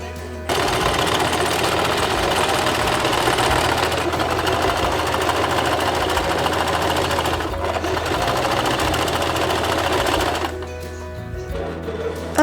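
A sewing machine stitches the hem of a cosplay dress, a fast steady mechanical whir that runs loud and close for about ten seconds before it slows and stops.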